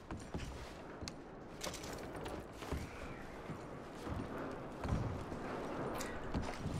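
Horse hooves clip-clop steadily on the ground in the snowy prologue of the video game Red Dead Redemption 2, a soft, continuous walking rhythm over ambient wind, with no talking.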